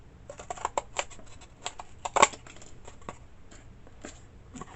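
Scissors snip through cardboard while cutting out the sides of a small cardboard house, giving a quick series of short, crisp snips close up, with a louder cut near the middle and no voices.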